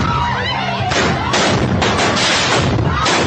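Fireworks go off in Buffalo in a row of loud, close booms and crackling bursts, dense and overlapping, with a faint voice underneath.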